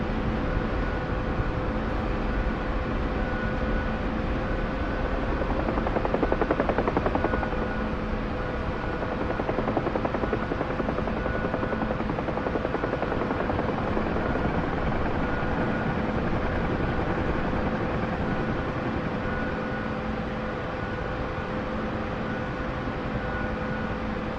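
A helicopter in the DCS flight simulator makes a slope landing, its rotor and turbine holding a loud, steady, unbroken drone throughout with no voices.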